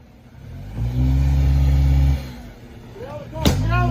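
Car engine revving hard during a police stop, a loud sustained roar that drops away, then rises again with a sharp bang and rising whine near the end, under urgent shouting.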